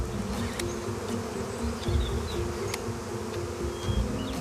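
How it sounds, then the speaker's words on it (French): Wild bees buzz in a forest, several close wing hums passing by over a steady insect drone and faint rustling background, with no voices. "Les abeilles réussissent tout juste à se glisser à travers les trous."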